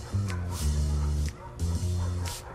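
A dog in a Family Guy video game barks twice in quick pairs, each a loud, close, tonal woof with a short pause between.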